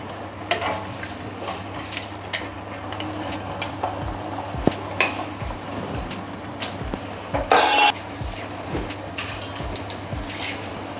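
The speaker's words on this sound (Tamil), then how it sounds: "இந்த பருப்பு இறக்கிட்டு இதில் சாம்பாருக்கு வதக்கிக்கிறேன்." Vegetables for sambar sauté in a pan with a low continuous sizzle, punctuated by scattered spatula taps and scrapes and one brief harsh burst of noise midway.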